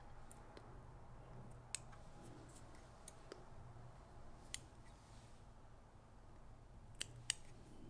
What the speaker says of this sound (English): And then trim this off somewhat close.